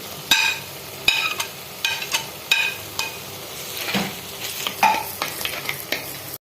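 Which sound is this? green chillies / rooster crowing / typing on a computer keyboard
green chillies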